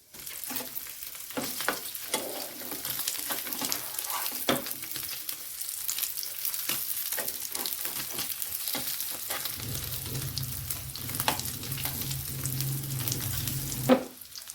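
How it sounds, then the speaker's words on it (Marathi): Paneer sautéing in a pan gives a continuous close sizzle, broken by scattered stirring clicks and scrapes; no voices are heard. "पनीर आपले ना छान परतून झालेले आहे"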